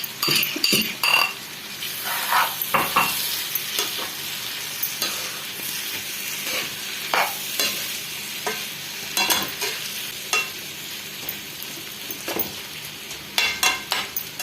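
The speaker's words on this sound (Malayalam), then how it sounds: "ആ ചിക്കൻ ഫ്രൈ ചെയ്ത് മാറ്റി വച്ചിരിക്കുന്ന ആ ചിക്കന് ഇതിലോട്ട് ഇട്ട് കൊടുക്കാം" Fried chicken pieces stirred into a sizzling masala for Kerala-style chicken roast, a spoon or spatula scraping and clinking against the pan in repeated strokes over a steady fry, close up with no talking.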